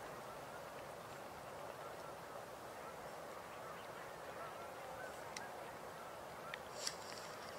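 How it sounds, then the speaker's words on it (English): Canada geese honking in flight over an open marsh, a couple of flocks aloft, their calls faint and distant over steady broadband background noise, with a few sharper honks near the end. "Hearing some Canada geese in the air, and there are a couple flocks in the air."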